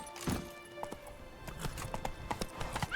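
Galloping hooves of the horse in The Witcher 3, a rapid irregular clip-clop of impacts running steadily through the clip over faint game ambience, with a brief whinny-like sound near the start.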